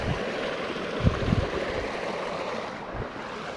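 Water gushes steadily from a running tubewell pump on a farm, a continuous rushing flow close to the microphone with a few low knocks and some wind noise.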